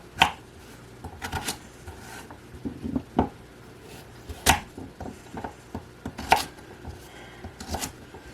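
Knife chopping potatoes on a board for a homemade potato soup: close, irregular taps and thuds, some louder sharp strikes among softer cuts, with no talking.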